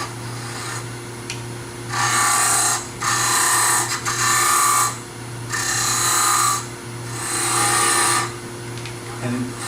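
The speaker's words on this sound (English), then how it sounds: "So I just take my parting tool" A parting tool cuts into a turned wood box spinning on a lathe, giving repeated bursts of rough, rasping scraping with short pauses between cuts, close and loud over the steady hum of the lathe motor.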